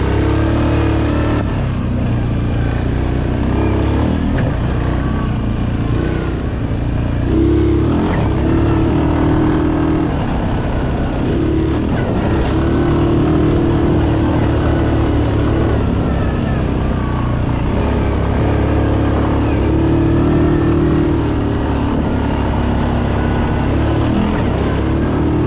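A 2019 Suzuki King Quad 750 ATV engine drones loud and close while riding, its pitch rising and falling with the throttle and never letting up.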